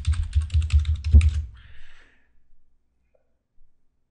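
A computer keyboard is typed on in a quick run of close, crisp keystrokes entering a password, followed by a faint sigh-like breath and near silence.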